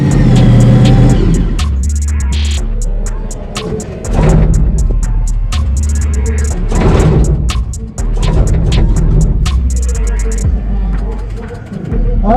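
A monster truck engine revs hard at a rough outdoor show, with loud repeated surges and drops of low engine roar mixed with crowd and background noise, and speech heard over it.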